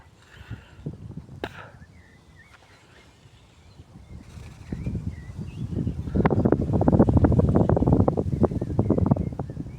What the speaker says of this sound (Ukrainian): Вітер знявся.